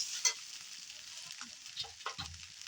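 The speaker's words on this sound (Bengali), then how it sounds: "এটাকে এইভাবে নেড়ে ভালো করে ভেজে নেব।" Puffed rice (muri) with salt and potato frying in a pan while being stirred, giving soft, faint sizzling and scraping with a few light clinks and rustles.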